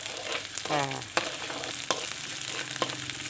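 Galangal stirred into a pot with garlic for a Thai palo stew, giving a steady close sizzle with a few sharp scrapes and clacks of the spoon against the pot.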